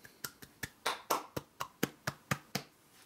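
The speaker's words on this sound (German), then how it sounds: "Leise klatschen." Soft hand clapping at a tabletop game, about a dozen quiet claps in a steady, even rhythm, close by with no talking.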